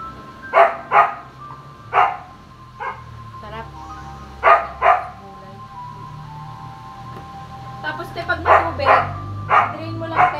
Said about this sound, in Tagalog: Yung mga aso na yun, kahit pusa, kinakahulan nila eh